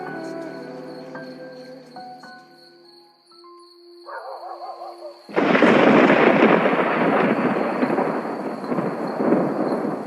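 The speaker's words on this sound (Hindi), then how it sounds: "तेज बारिश हो रही थी।" Heavy rain bursts in loud and dense after a quiet, tonal opening, a steady roaring downpour with a low rumble of thunder, used as a dark horror-story effect; no one speaks over it.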